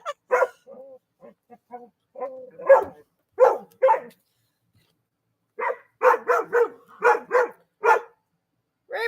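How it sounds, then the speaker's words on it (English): Several dogs bark back and forth at each other indoors, sharp close barks in irregular bursts with short yips and whimpers between, then a dense run of rapid barking after a brief pause. "They're barking at each other."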